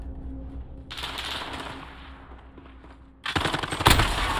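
Rapid automatic gunfire from a Call of Duty Modern Warfare multiplayer HQ match rattles on steadily and loudly, then breaks into a harsher, heavier burst of shots near the end.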